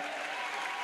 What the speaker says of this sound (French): Offrant l'acclamation. A clap offering.